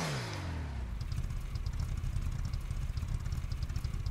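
A turbocharged VW Brasilia engine runs on a dyno, dropping from a falling rev at the start into a steady, loud, rough drone that holds without talk.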